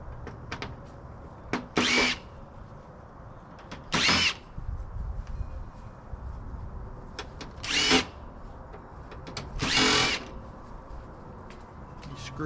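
A power drill whirs in four short bursts of about half a second each, backing screws out of the casing of a scrapped LCD TV, with quieter handling clatter between the bursts.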